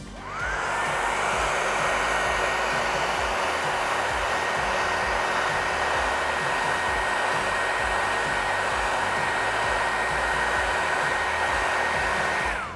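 Heat gun warming paint protection film on a Tesla Cybertruck, a loud continuous blower roar with a steady whine that starts up, holds evenly for about twelve seconds, then cuts off.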